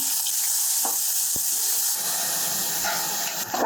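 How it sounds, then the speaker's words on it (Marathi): Two large finely chopped onions are frying with curry leaves in a pan. The hiss and sizzle are loud and continuous, with a brief knock of a utensil midway. "आता घालूया दोन मोठे बारीक चिरून घेतलेले कांदे"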